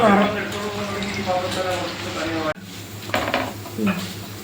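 Oil bubbles and hisses as cauliflower 65 deep-fries, with utensils clinking against the pan and voices speaking over the cooking.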